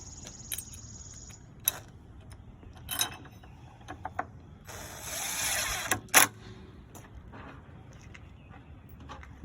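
A drill with a number 3 bit driving screws into a hinge positioning plate on a door boring jig: short whirring bursts and one longer buzzing run, mixed with clicks and taps of handling, fairly quiet and close.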